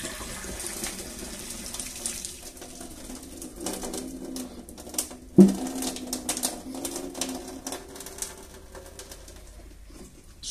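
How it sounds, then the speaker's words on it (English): Water from a cooking pot of boiled potatoes pours out in a continuous splashing rush into a sink, moderately close, with a brief clatter midway. "And I'll drain the water out."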